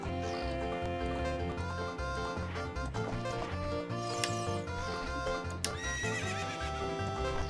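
Epona, the horse in Zelda: Ocarina of Time, whinnies and clip-clops in the game. Her neighs and hoofbeats come through under dense, continuous game music.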